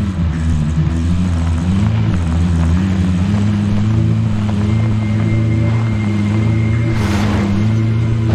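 Vehicle engine droning steadily in the Call of Duty Modern Warfare Warzone video game, a continuous loud low hum with shifting pitch as the car is driven, accompanied by background game sounds.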